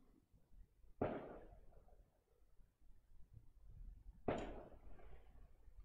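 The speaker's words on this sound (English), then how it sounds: "Oh, it's a fireworks." Two sharp fireworks bangs go off outdoors a few seconds apart, heard from a distance over a low background rumble, with no talk.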